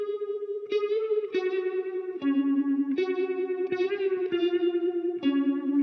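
An electric guitar plays through a phaser pedal, sounding a run of sustained, swirling notes one after another, each struck note sweeping and shimmering, close and alone.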